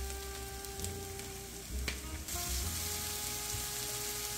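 Broccoli mash ingredients cook together in a pan with a steady, close sizzle and brief stirring scrapes, and no voices.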